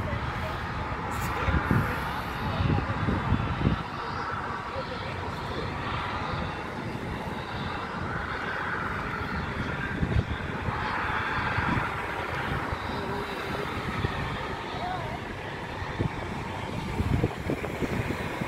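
A JSX Embraer E135 regional jet roars steadily with a broad, constant engine rumble and wash that fills the whole stretch, loud and near, with some road traffic noise mixed in.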